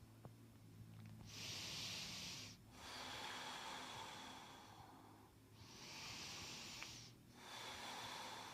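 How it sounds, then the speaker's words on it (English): Slow, quiet breaths drawn in and out through the nose during a lower back and hip stretching session, alternating in soft, airy rushes with short pauses between, close and steady. "Now just breathing in and out through the nose."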